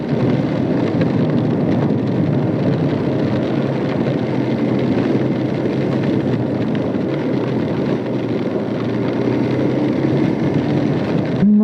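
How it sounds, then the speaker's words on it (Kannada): Steady, dense monsoon rainfall pours without pause on a forest road, a continuous loud hiss with a low rumbling undertone throughout. "ಮಳೆ ಮಳೆ ಮಳೆ ಮಳೆ ಮಳೆ ಮಳೆ ಮಳೆ ಮಳೆ"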